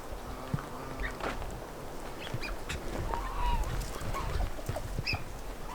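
Hens out in a yard, clucking and squawking with honking, goose-like calls, several close birds overlapping continuously over a loud outdoor background.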